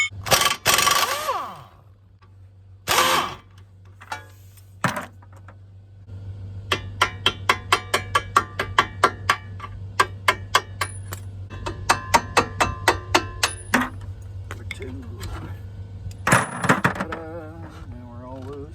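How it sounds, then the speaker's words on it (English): Ratcheting clicks and metallic clinks come from a wrench removing 19mm bolts from the axle of a 2003 Honda Element, in bursts of rapid ratcheting with pauses, under a low hum and occasional clanks. "let's get these 19mm bolts out."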